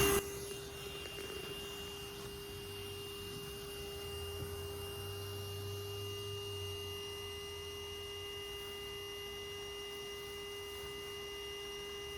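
A vacuum set to gentle suction draws a bee swarm into its hose, its motor giving a steady, even hum with a tonal whine that runs unbroken for about twelve seconds at moderate, constant loudness.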